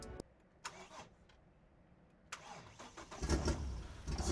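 Nissan Patrol with a swapped-in Barra engine, running rough and missing cylinders, cranks and catches after a pause, then settles into a loud, uneven idle, close up.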